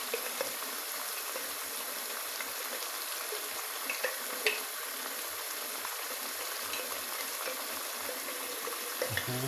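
Tomatoes are added to frying potatoes and stirred in a pan, producing a steady close sizzle with scattered scraping and clinking from the stirring. No one speaks.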